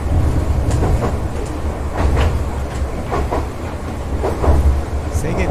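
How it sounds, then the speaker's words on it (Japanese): An inbound Choshi Electric Railway train runs along the track with a steady, loud rumble, overlaid by rhythmic clickety-clack wheel beats and occasional rattles throughout. "今日は銚子電鉄をね運転しています。"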